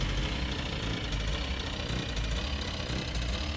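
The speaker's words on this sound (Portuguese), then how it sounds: "Tá foda o nosso motor, velho." A struggling, rough-running car engine in the driving game Jalopy, with a steady, loud, gritty drone and uneven knocking that continues without a break.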